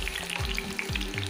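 Chicken pakoda deep-frying in hot oil for a crispy batch: a loud, close, steady sizzle and crackle that fills the whole moment with no voices.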